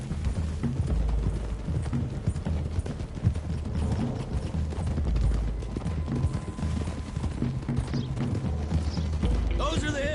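Horses gallop along a road in a cowboy video game, a steady stream of close hoofbeats with faint mechanical clatter and a possible background voice.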